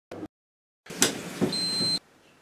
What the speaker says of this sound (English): No, Rod, it'll beep when it's time to take it out